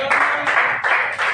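A group of children claps together in quick, rhythmic bursts, three clear rounds of clapping close by in a classroom setting.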